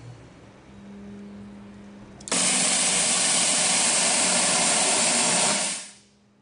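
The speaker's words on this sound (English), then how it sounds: "we'll hear the solenoid pulsing, and it'll get faster and faster and faster" On a Dayton dyno, a nitrous solenoid on a running engine opens into a loud, sustained rushing hiss that starts abruptly partway in, holds steady for about three seconds, then fades away. A low hum comes before it, and there is no talking.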